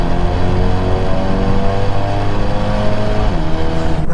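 A 2021 Mercedes-AMG A35 4Matic launches hard from a race start, its engine roaring loud and close throughout with a steady strained drone and a brief change near the end as a gear shift comes in.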